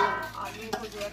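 Cut potatoes dropped into a pan of hot oil and vegetables, giving a brief close sizzle with a light scrape of stirring.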